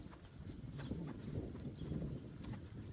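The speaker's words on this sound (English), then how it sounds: "So his only job is just to walk with that rope around his girth area." A horse walks with a rope around its girth, its hooves clip-clopping softly and irregularly on the ground amid low background rumble and light wind.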